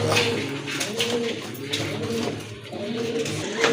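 Caged pigeons at a sale coo repeatedly in soft, rolling low calls close by, several birds overlapping in a steady murmuring rhythm.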